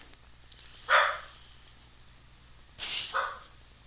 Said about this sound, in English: The doggies are on having a barking competition at nothing.